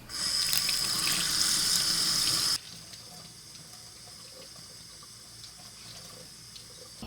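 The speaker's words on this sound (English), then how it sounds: "Let's rinse it out." A running tap pours loudly into a sink for about two and a half seconds while a dyed craft is rinsed. Then it shuts off abruptly, leaving only faint room noise.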